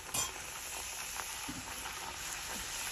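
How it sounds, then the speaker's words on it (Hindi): Puris deep-fry in hot oil, giving a faint, steady bubbling sizzle with a few soft pops and stirs, close up and with no talk. "चलो तो अम्मी सारी पूरियाँ तल के आपको दिखाती है"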